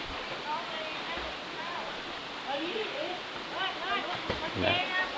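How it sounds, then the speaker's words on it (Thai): Waterfall at Phlio Waterfall National Park, Chanthaburi, Thailand, pouring down in a continuous close rush, with someone talking over it throughout. "นี่นะน้ำตกจะไหลลงไปด้านล่างนี่นะครับ"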